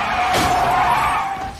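A car skidding in the game Pacific Drive, a sustained loud tire screech with a brief crash-like burst near the start, steady throughout with no talking.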